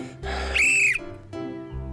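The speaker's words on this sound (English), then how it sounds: "This whistle is great. Watch." A single shrill whistle blast, held for about half a second, set between dull thumping sounds.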